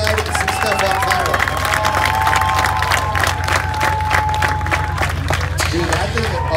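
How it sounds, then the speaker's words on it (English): A crowd at a Holley MoParty event at Beech Bend Raceway claps and cheers loudly and steadily, a dense wash of applause with voices and a tonal sound running through it. "Give them a big round of applause for apparently lighting some stuff on fire."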